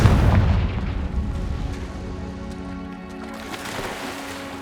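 A Confringo fire spell explodes in the video game Hogwarts Legacy, a loud booming blast at the start that decays into a rumbling, crackling tail with sustained tones over several seconds.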